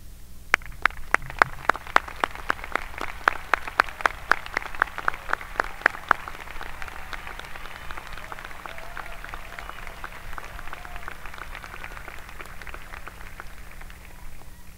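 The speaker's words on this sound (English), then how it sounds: "Please join me in applause" An audience at a high school graduation ceremony applauds the faculty, with sharp, close individual claps rhythmically punctuating a broad wash of crowd clapping that continues steadily after the nearby claps stop.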